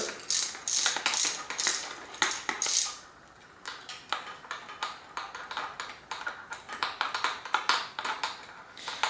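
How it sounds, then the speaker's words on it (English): A ratchet wrench loosens a bolt on a RockShox Quadra 21R bicycle suspension fork, close and crisp, with rapid clicking bursts followed by a brief pause and then steady repeated ratcheting strokes. "ratchet wrench here, and so I'm going to work on loosening that bolt down there"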